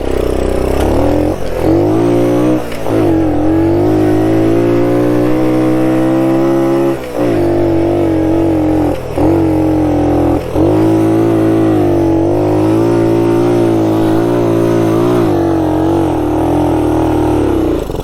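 A 1969 Honda Trail CT90 motorcycle running in low range on a desert ride, with a loud close engine drone that rises and falls steadily throughout and no speech.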